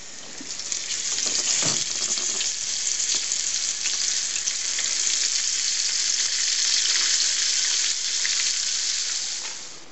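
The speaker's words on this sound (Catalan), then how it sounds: "passar-lo a fregir amb oli ben roent" Loud, continuous sizzling of floured salt cod frying in very hot oil, close up and steady for the whole stretch, with faint crackles and pops.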